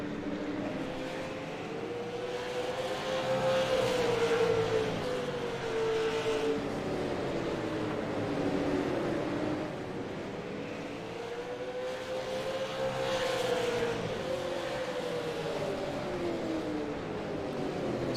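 Super late model race cars circling New Smyrna Speedway, their engines droning loud and steady with rising and falling pitch as the pack sweeps past, swelling twice in waves over a constant roar.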